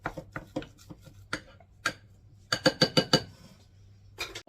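A spoon scrapes and clinks against a bowl while stirring a garlicky, oniony leftover mashed potato mix, giving a run of irregular, close knocks and scrapes, with a few louder clusters of clinks partway through and no talking.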